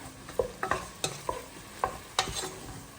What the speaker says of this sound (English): then obviously just stir it all in